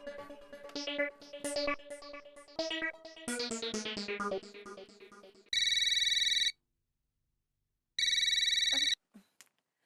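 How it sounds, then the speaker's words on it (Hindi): A shop telephone rings from an incoming call, two long loud electronic bursts separated by a pause, following a stretch of music. "अरे बबीता जी, आपको कैसे पता चला मैंने फोन किया है?"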